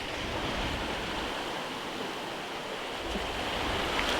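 Steady roar of ocean surf breaking on flat rocks close by, a dense continuous wash of water noise with slight swells, no voices.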